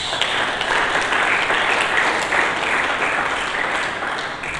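A church congregation claps together in a dense, sustained round of applause that stays loud and even throughout, with no voices rising above it.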